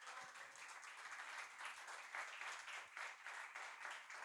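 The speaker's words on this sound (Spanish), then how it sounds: "Dele un aplauso al Señor." A church congregation applauds, a continuous, fairly faint wash of many hands clapping steadily from start to finish.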